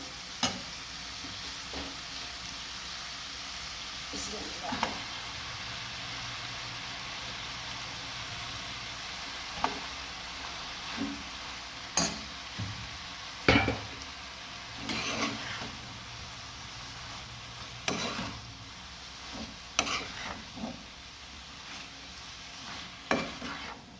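Pumpkin greens stirred into shrimp frying in a pan, a steady close sizzle broken by intermittent scrapes and clinks of a utensil.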